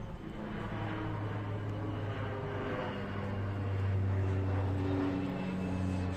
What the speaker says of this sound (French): Je sais pas ce que c'est cet avion, on dirait un avion de guerre.